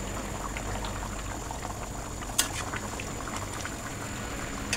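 Meat and potato curry simmers in a covered pot, a steady soft bubbling hiss throughout with a few faint pops and one brief clink near the middle, close and quiet, no voices.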